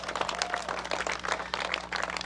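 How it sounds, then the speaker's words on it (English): A crowd applauds steadily at a school ribbon-cutting ceremony, a dense wash of many hands clapping throughout without pause, with a low steady hum underneath. "Give them a big round of applause."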